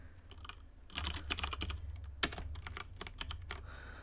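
Fingers tapping on a computer keyboard while entering code, a quiet steady patter of keystrokes with a few louder strikes, near and alone with no talk.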